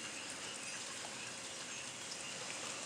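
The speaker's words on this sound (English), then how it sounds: "Here comes the rain." Rain beginning to fall as a storm rolls in at night, a steady broadband hiss of drops with no distinct impacts, moderately faint and continuous throughout.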